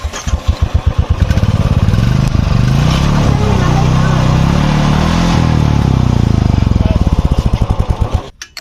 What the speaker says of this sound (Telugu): ఒకసారి అయితే బండి సౌండ్ అయితే వినండి ఒరిజినల్ సైలెన్సర్తో